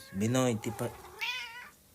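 A small cat meows once, moderately near, after a man's brief speech, with a rising drawn-out call.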